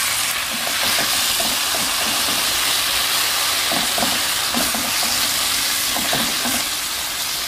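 Chicken shawarma frying in melted butter in a pan, a loud, continuous close sizzle and hiss with occasional stirring scrapes, no talk.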